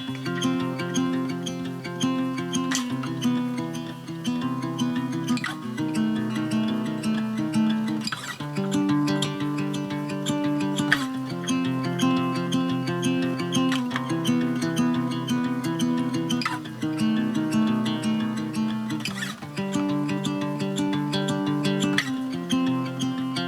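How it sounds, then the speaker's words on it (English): Acoustic guitar run through a granular effect built in a Soundtoys effect rack, giving steady, spacey layered tones that repeat in a loose pattern. It plays continuously for the whole stretch with no talking. "I have this kind of granular effect that I made with the Soundtoys effect rack"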